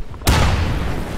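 Frag grenade exploding in the video game Insurgency, a single loud sudden boom after a moment of quiet, followed by a long rumbling decay.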